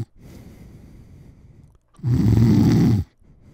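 A person imitates snoring with the voice, a long, low rasping inhale followed by a louder, harsher snort-like burst, then a brief pause and a fainter breath, heard alone without speech.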